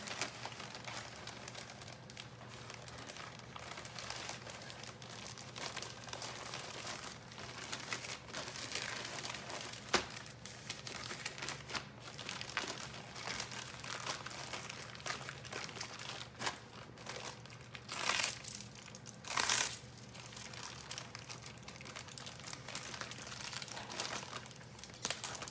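A plastic eBay shipping bag crinkles continuously as a plush toy is packed into it, a soft steady rustling with occasional sharper crackles, faint and close.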